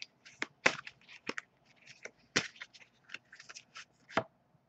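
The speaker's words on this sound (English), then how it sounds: "As I shuffle the deck" A deck of oracle tarot cards being shuffled by hand, an irregular series of soft riffles and sharp card snaps, close and quiet with no talking.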